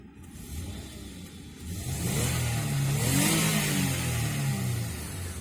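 A 2007 Lexus ES350 with a 3.5-liter 2GR-FE V6 driving the front wheels is revved from idle, the engine rising through a couple of swelling revs and easing off, heard close and moderately loud with no talk.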